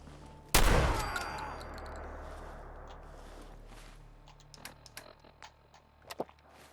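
A single loud gunshot rings out in the video game Fallout 4, played in survival mode, followed by a long fading tail of ambient game noise and a few faint clicks.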